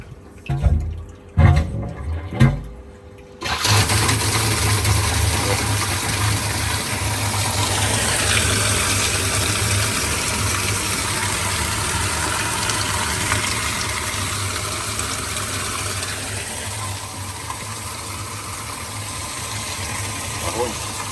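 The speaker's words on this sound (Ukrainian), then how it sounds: "Вмикаємо насос." After a few handling knocks, a water pump feeding a homemade drum filter switches on and runs with a steady low hum and rushing water that continues unbroken to the end.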